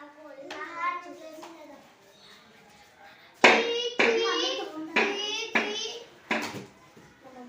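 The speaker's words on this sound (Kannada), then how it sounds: "ಜೋರ್ಲೆ ಚಪ್ಪಾಳೆ" Children in a first-grade classroom give several bursts of loud group clapping, preceded by someone speaking briefly.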